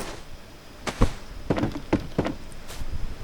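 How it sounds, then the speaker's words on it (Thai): A door being shut inside a house on an island, giving a few thuds and knocks, the loudest near one second, followed by softer taps and small knocks. "ปิดประตูเพื่อความแนบเนียน"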